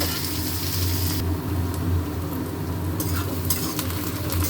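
Onions fry in hot oil with whole garam masala and cumin, a close, loud sizzle with stirring scrapes that briefly eases and then returns, and no voices.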